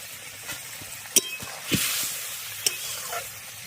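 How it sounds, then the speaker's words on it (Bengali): Pea kofta gravy bubbling and sizzling in a pan, a continuous soft hiss with brief pops, a swell of bubbling in the middle and a couple of clinks of a utensil. "গ্রেভি ফুটে উঠেছে, এবার ভেজে রাখা কোপ্তাগুলো এর মধ্যে দিয়ে দেব।"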